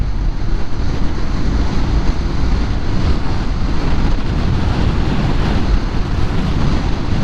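Strong wind roars and buffets across a camera mounted on a car travelling at 100 km/h, a loud, continuous broadband rush with rapid fluttering and no speech.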